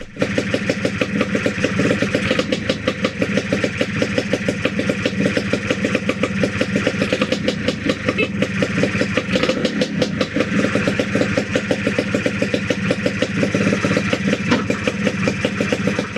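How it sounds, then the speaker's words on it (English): A Lambretta scooter engine with a properly sealed exhaust fires after a couple of kicks and settles into a steady, rapid idle, its even ticking beat continuing loud and close throughout with no talk. "And with a couple of kicks it fires straight up."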